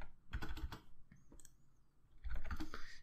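Commands are typed on a computer keyboard in two bursts of quick, close key clatter separated by a softer pause with a few scattered taps.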